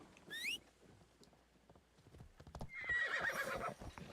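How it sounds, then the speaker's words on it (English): A horse in the video game Assassin's Creed Shadows gallops with rapid hoof clip-clops, giving a short whinny early on and a longer, louder neigh near the end. "ride through here on my horse until I find him"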